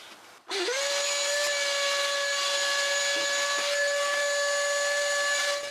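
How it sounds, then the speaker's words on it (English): A vacuum cleaner starts up and runs with a steady, loud whine, sucking up broken wiring harness fragments in the engine bay of a Chevy Avalanche with the 5.3L V8, close and uninterrupted. "gonna vacuum out all the little pieces that came out of or off of those wiring harnesses"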